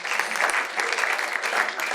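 A comedy club crowd claps briefly, a dense burst of applause lasting about two seconds with no talk over it.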